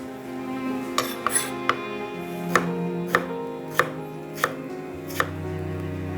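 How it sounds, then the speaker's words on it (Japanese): A knife slices strawberries and raspberries into rounds on a cutting board, about ten crisp taps in an uneven rhythm, close and clear. "ラズベリーにイチゴを切ろう。"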